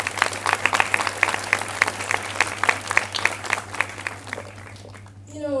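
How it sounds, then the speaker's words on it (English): Audience applause at an MBBS pinning ceremony, continuous clapping from a crowd with several distinct near claps standing out in a loose rhythm over a low hum, thinning at the end as a voice begins. "I'm going to ask each and every person to give themselves a round of applause"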